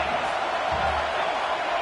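Crowd at a Tennessee vs Oregon football game cheering and roaring, a dense, loud wash of voices filling the stadium, steady and sustained throughout.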